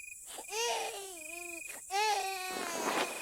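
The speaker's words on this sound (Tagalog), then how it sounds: "iyak ng bata yon, di ba?" Infant wailing at night, a close, loud cry in drawn-out rising and falling bursts with short breaths between, alone without talk.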